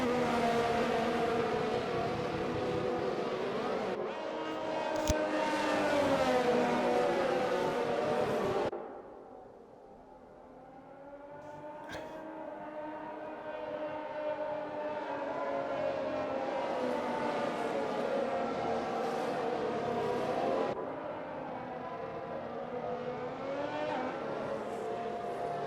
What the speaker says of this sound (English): we are racing once again here at Spa